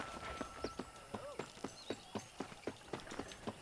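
Horse hooves gallop at a steady, rhythmic clip-clop while riding in the Western video game Red Dead Redemption, the beats regular and fairly close, with faint whistles and ambient game sounds beneath.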